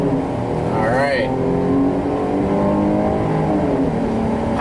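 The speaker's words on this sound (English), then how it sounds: "it's adequate acceleration from the V6" A 2021 Jeep Grand Cherokee L with the V6 accelerates, heard from inside the cabin as a steady engine drone whose pitch climbs briefly near the start and then holds.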